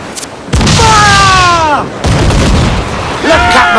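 Ship cannons boom in a naval battle in Assassin's Creed Black Flag, two heavy blasts about a second and a half apart, loud and near, with whistling, descending projectile sounds trailing after each shot.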